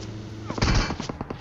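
Gunfire in a battle royale video game: a quick string of sharp shots, the loudest burst in the middle and a few lighter rapid pops after it, close and punchy.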